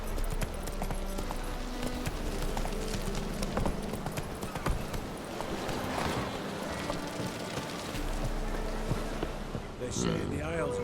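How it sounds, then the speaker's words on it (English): Roach the horse galloping in The Witcher 3 game: continuous rhythmic hoofbeats under game dialogue and ambient sound, with the galloping easing off near the end. "Whoa there, Roach"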